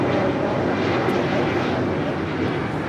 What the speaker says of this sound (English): Coming in from Cabo, this is Alaska Airlines Flight 1343 and the 737-900ER.